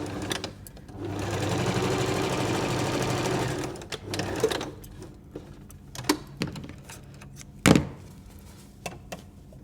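A sewing machine runs a steady, loud burst of stitching down a cutlery pouch seam made from a napkin, then stops; quieter handling clicks and fabric rustles follow, with one sharp knock near the end.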